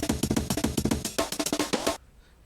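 Breakcore drum break sample from a sample pack: rapid chopped kicks and snares in a dense, fast rhythm, loud and alone, cutting off abruptly near the end.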